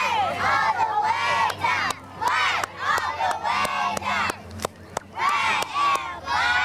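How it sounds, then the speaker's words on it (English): Young girls cheer and shout together in loud, rhythmic bursts at a cultural festival parade, close by, punctuated by sharp claps or stomps. "these little girls are absolutely adorable, and they cheer all the way"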